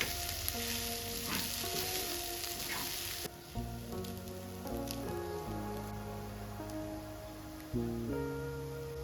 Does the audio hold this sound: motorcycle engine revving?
no